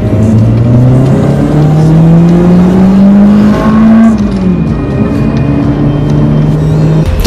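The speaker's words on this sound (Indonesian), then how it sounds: "ini mesinnya udah berubah, bukan kayak expander biasa suaranya" Modified turbocharged Mitsubishi Xpander engine revving loudly up close, pitch climbing steadily then dropping and holding at a high idle-rev, no talk over it.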